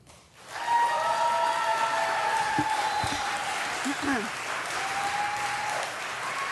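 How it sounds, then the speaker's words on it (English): Loud applause fills a city council chamber, a sustained crowd of clapping that swells in quickly and holds steady, with voices talking faintly underneath. "the applause was a little loud"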